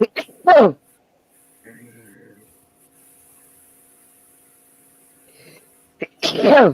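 Two loud sneezes from a person indoors, one near the start and another at the end, separated by a quiet stretch with faint background murmur and a brief spoken exclamation.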